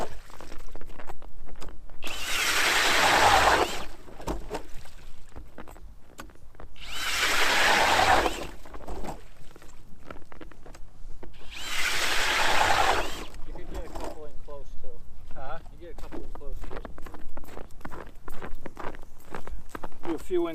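Three separate bursts of a StrikeMaster Lite-Flite cordless drill ice auger grinding through ice, each a few seconds long, with crunching footsteps and rustling between them.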